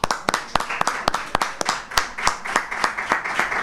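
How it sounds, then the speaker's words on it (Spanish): Scattered, individually distinct hand claps from a small local audience greet a prize winner at a Sierra de Cádiz awards event, an uneven, sparse patter of separate claps throughout. "Un aplauso."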